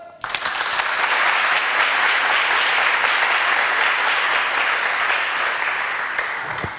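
A studio audience bursts into loud, dense applause on a French television game show, sustained clapping from many hands that tapers slightly toward the end.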